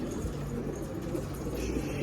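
Pigeons on the ground coo softly among a flock of loose birds, low murmuring calls over steady outdoor background noise.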